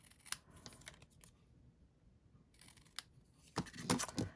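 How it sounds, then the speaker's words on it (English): Scissors trim a paper circle for a Stampin' Up! winter-themed card, with a few quiet crisp snips, then a pause, then a closer run of sharper cuts. "Let's trim this with our scissors."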